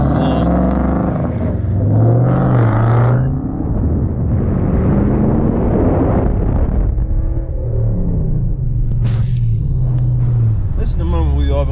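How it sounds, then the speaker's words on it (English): Burnout from a car at a roll-racing event between a Pontiac G8 and a Mustang 5.0: a loud, sustained engine roar and rumble holds for the full stretch, with a couple of revving surges. Voices and crowd noise sit under it. "you just saw the burnout"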